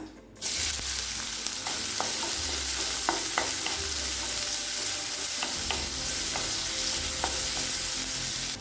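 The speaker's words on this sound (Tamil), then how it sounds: "கடாயில் தேவையான அளவு எண்ணெய், பொடியாக நறுக்கின ஒரு வெங்காயத்தை சேர்த்துக்கலாம்" Chopped onion sizzles loudly and steadily in oil in a pan, with occasional light clicks of stirring; no voices.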